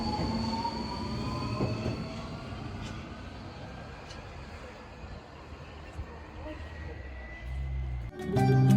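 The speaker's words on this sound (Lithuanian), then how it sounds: "Ir dabar laukiam metro." A Budapest metro train rumbles through the station with a sustained roar, wheel squeal and drawn-out metallic tones, then a louder surge near the end, faint voices in the background.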